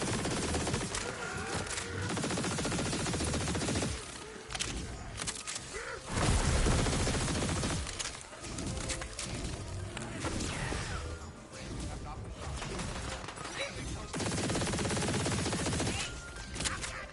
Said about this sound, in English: Proceeds to keep shooting.